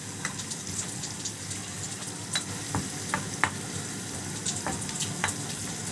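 Garlic and dried coriander frying in a pan, a steady close sizzle with occasional sharp crackles and pops throughout, no talking.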